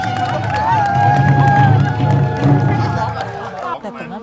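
A television game-show studio audience cheers and whoops loudly with scattered clapping, the noise easing off toward the end.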